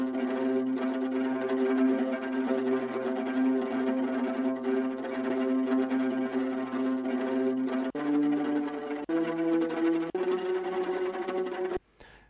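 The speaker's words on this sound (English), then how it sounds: "And that's a ricochet that sounds like this." Ricochet bowing from a string ensemble in the Bunker Strings library, with rapid bouncing bow strokes that blend cello, viola and violin in sustained layered chords. It plays loudly and steadily, shifts chords near eight seconds, and cuts off sharply just before the end.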